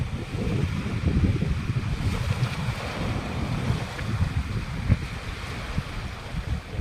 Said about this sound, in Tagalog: Awas ang dagat oh.